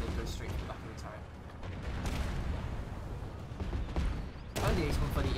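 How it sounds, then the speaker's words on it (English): Heavy gunfire and booming blasts from an AC-130 gunship in a competitive video game match fill the scene as a dense, continuous barrage, with a louder burst near the end and talk underneath. "the AC-130 is shooting people now"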